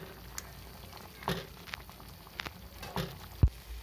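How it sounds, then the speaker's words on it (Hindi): Water simmers in a pot for Maggi noodles, giving a faint, continuous bubbling with scattered soft pops and a single sharper knock. "देखिए फ्रेंड्स पानी बॉईल हो चुका है"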